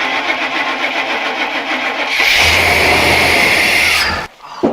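An old car engine cranks and tries to start, a steady loud churning lasting about four seconds before cutting off abruptly.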